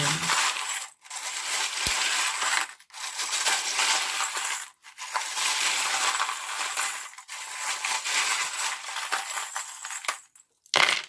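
Small metal charms are shaken and cast for a tarot reading, producing bright jingling clatter in several long bursts separated by brief pauses, close and fairly loud.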